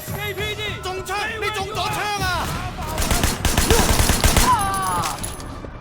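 Rapid bursts of gunfire from the video game Sleeping Dogs crackle in dense volleys, layered with shouting voices and game effects, loud and close throughout.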